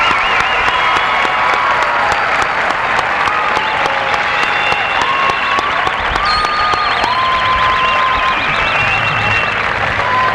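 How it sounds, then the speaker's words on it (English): A large seated crowd at a high school commencement gives a long, loud round of applause for scholarship recipients, dense and sustained, with occasional whistles and cheers rising above the clapping. "let's give these recipients of these scholarships a nice round of applause"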